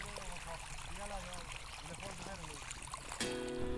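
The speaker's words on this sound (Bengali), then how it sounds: "তো এখন আস্তে আস্তে এটার মধ্যে জল দিয়ে দেব।" Irrigation water trickling and gurgling into a farm field, a steady watery flow close by with faint tonal sounds over it, joined near the end by a louder, even hum.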